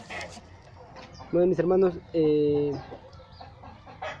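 English hens cluck and call in two loud, drawn-out bursts in the middle, close by, with someone speaking Spanish briefly before and after.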